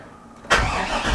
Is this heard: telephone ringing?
no